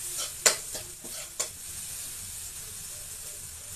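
Fried rice with Chinese sausage and onion is stir-fried in a pan, a soft continuous sizzle broken by a few sharp scrapes of the spatula early on, then settling into a quiet hiss.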